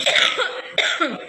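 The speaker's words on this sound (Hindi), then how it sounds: "खांसी हो रही है मुझे बहुत तेज" A woman coughs hard several times, two harsh bursts with a short pause between them, close and loud in a quiet home kitchen.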